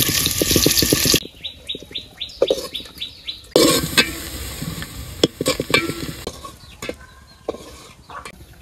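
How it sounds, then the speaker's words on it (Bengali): Chopped onions fry in oil in a pot over a village cooking stove, giving a steady close sizzle with stirring scrapes and clatter, while birds chirp faintly in the background. "পেঁয়াজ কুচি দিয়ে দিলাম"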